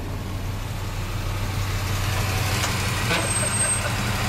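A tow truck's engine runs at a steady idle nearby, a constant low diesel rumble throughout with a faint high whine near the end.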